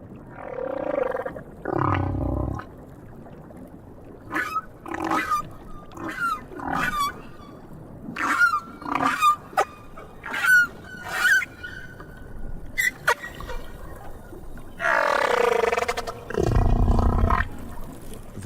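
Humpback whale song recorded in the South Pacific, a series of moaning calls, rising whoops and high squeals in rhythmic phrases, with deep, loud groans at the start and end and no voices.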